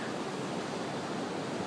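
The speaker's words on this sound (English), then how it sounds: "Look at the waves behind me." Large hurricane swell waves breaking at a surf beach, a broad steady wash of surf roar with no distinct individual crashes, heard without voices.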